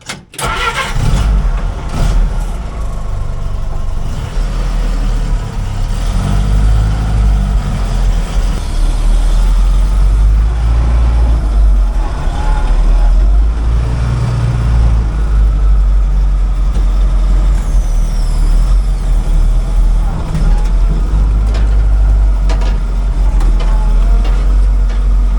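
A 1956 Willys CJ5 fitted with a new engine cranks, fires and settles into a loud, rough, steady idle close by, running alone without talk for the whole stretch.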